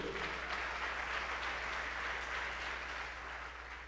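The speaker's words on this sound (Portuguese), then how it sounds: "aplauda o Senhor" A church congregation applauds during a worship service. Steady, diffuse clapping sounds somewhat distant and even, and it fades slightly at the end.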